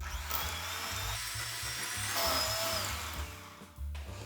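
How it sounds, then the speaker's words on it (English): Electric whisk beating soft butter for buttercream, a steady motorized whir running continuously at close range with slight shifts in pitch, no talking. "So I'm going to whisk this up for about maybe 2 to 3 minutes till it's nice and soft."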